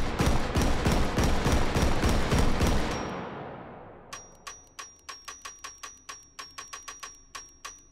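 Gunfire in the Hot Dogs, Horseshoes & Hand Grenades VR shooting game: a fast run of loud, evenly spaced shots that rings out and fades, then a string of lighter, sharp mechanical clicks.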